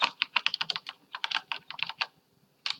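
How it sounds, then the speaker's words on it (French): Rapid typing on a computer keyboard, a dense burst of crisp clicking keystrokes in irregular clusters with a short pause near the end, close and clear with no talk. "stop taper au clavier là."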